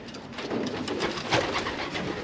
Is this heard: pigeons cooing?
yes